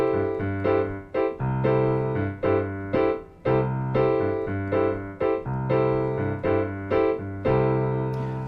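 A piano plays a Latin-style two-hand rhythm exercise, with both hands locked into a repeating on-off pattern built from a two-bar phrase. The punchy chords and bass notes sound close and clear, with no talking.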